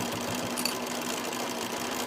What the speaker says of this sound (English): My sewing machine sounds a bit rattly at the minute, so I think I'm going to need to put some oil in it.